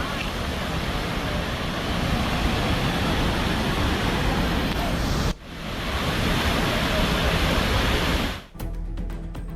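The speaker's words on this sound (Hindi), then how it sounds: "बगल से बहती हुई नदी, कलकल धारा" A river flowing beside houses in Nepal, its burbling current a loud, constant rushing wash close by, broken by two brief abrupt drops in level.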